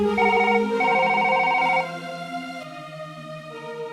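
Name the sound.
telephone ringing, audio story sound effect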